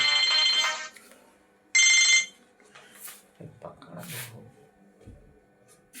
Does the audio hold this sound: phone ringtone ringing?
yes